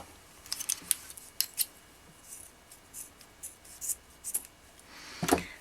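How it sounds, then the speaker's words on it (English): Scissors snip macrame bracelet threads in a series of sharp, close cuts, some grouped in quick pairs, separated by quiet pauses with faint handling. "And cut the rest of the threads off."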